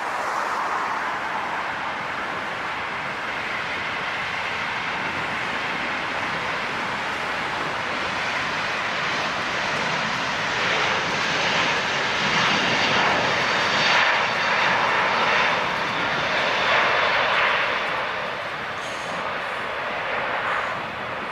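A jet airliner takes off at LAX with a steady roaring engine rumble that builds slightly in loudness midway and holds with broad, even noise for about twenty seconds, heard from a distance with no talk.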